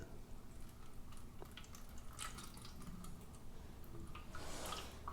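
Tea poured from a press into a plate trickles and drips softly at close range, a faint uneven splashing that swells into a brief louder pour near the end.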